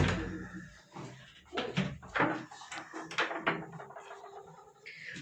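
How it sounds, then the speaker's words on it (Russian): A door onto a balcony in Jodhpur, Rajasthan, is opened with a series of clunks, creaks and rattles spread over several seconds, close and moderately loud, with faint background voices. "Открывает дверь."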